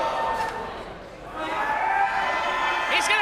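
Wrestling fans chant in unison at a live show, a loud rhythmic crowd roar with rising and falling swells, and a commentator talks over it.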